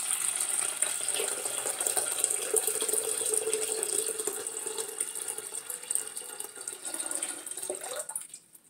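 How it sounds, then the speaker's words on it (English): Water pours steadily into the pitcher of a Soyabella soymilk maker at home, a continuous near splashing trickle lasting several seconds before stopping abruptly. "And then I have to put water in the pitcher first."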